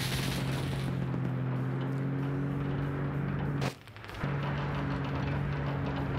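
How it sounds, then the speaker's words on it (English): Gunfire in a large WW2 Germans-versus-Soviets multiplayer video game, steady crackling shots over a constant engine drone, cutting out briefly midway before resuming. "There's the shooting."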